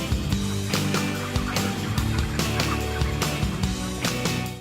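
Broiler chickens fill a long chicken house holding thousands of birds with a loud, dense chorus of overlapping clucks and calls, steady and close throughout.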